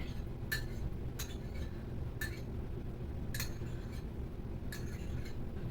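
A spoon taps and scrapes against a bowl to get out the last of the beaten egg while a pumpkin pie is being made, giving five sharp clinks spaced about a second apart over a steady low background hum.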